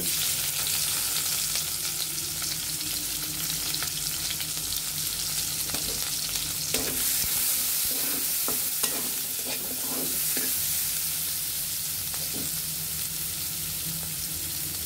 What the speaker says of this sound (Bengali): আমরা কড়াইতে তেল দিয়ে দিয়েছি। এখন আমরা পেঁয়াজগুলো দিয়ে দিব।